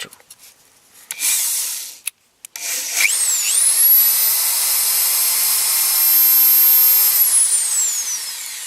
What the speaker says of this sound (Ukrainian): Тепер ми просверлимо ним дирку. Я поставив сверло по дереву на 7 мм.